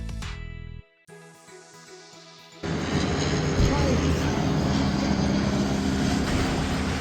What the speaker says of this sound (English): the plane, right? We're on the flight path, Marky.